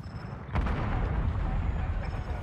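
A grenade explosion in Black Ops 6 bursts in with a sharp crack after a quiet half-second, followed by a loud, rumbling, debris-filled roar that lingers to the end.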